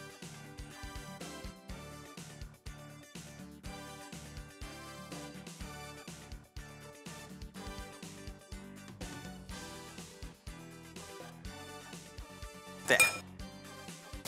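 A knife chops petha, the candied ash gourd sweet, on a board in steady, quick strokes, each cut a crisp tap repeating at an even rhythm throughout, with a brief louder clatter near the end.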